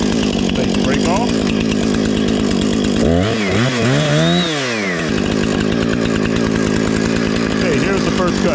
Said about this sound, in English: we're going to go ahead and start up our Husqvarna